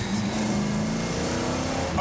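A muscle car engine revving, a deep throaty rumble that holds steady and rises slightly near the end, moderately loud and continuous with no speech.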